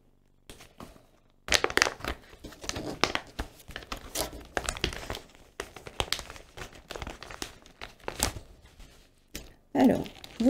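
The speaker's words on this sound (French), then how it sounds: "Donc maintenant, je déballe." Plastic packaging crinkles and tears as a patchwork kit of pre-cut felt pieces is unwrapped close up, with bursts of rustling and crackling coming in irregular clusters after a quiet start.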